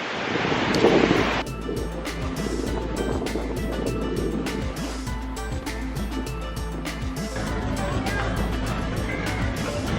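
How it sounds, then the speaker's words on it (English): Big ocean waves roll onto Candolim Beach in Goa, with fishing boats offshore, a steady wash of surf under gusty wind noise on the microphone, with faint voices nearby. "Oh, big waves."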